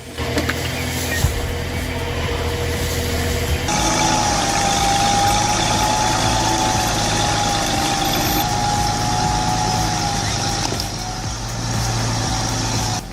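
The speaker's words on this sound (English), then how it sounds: "the MB Track 1100 tractor is pulling that massive beach log through the mud" An MB Track 1100 tractor engine labours steadily while dragging a heavy beech log through mud, a continuous loud mechanical drone with a shift in tone partway through and no talking.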